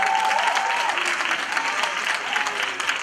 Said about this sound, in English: I didn't know I was going to get a clap